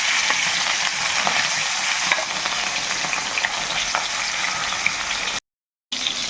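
Fish coated in salt and turmeric fries in hot mustard oil in a kadai, giving a loud, continuous sizzle with faint stirring scrapes and a brief cut to silence near the end.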